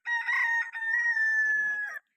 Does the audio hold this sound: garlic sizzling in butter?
no